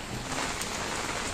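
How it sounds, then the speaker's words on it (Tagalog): Heavy rain pouring down steadily during flooding in a village barangay, a dense, loud hiss of drops on surfaces with no pauses. "grabe naman dito yung pag-ulan."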